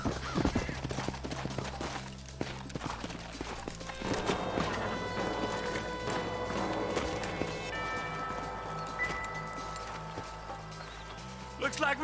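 Horse hooves clip-clop in the Western video game Red Dead Redemption, a steady walking rhythm mixed with music, gunfire-like hits and game effects, with voices talking over it.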